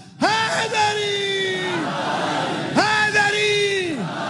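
A rally crowd bellows the Haidari slogan in unison twice, each call a long swelling roar of many voices that falls away at the end, close and loud.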